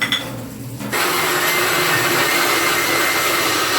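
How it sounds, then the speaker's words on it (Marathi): A kitchen mixer grinder grinding wet masala with water for a Kolhapuri mutton rassa, kicking in after a moment of quiet and then whirring loudly and steadily to the end. "मिक्सरला पाणी हा आणि ह्याच्यात थोडस पाणी वतायचं"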